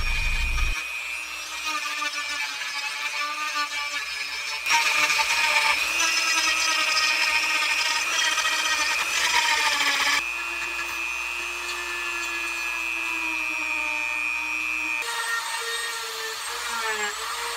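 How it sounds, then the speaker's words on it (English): Dremel rotary tool sanding a custom plastic action figure, a steady high-pitched whine that grinds on continuously with shifts in pitch and pressure as the bit bites into the plastic, close and loud throughout. "sand it down a little with the Dremel"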